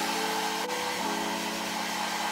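A handheld hair dryer blows steadily throughout, a continuous close-up whoosh with a constant motor hum while hair is dried before graduation makeup.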